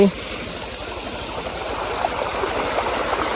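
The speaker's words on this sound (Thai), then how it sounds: "คือน้ำไหล" Steady flowing floodwater, a soft continuous rush and trickle like a stream, heard close and moderately loud.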